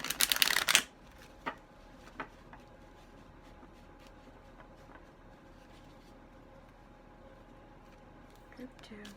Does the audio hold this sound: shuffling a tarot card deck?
yes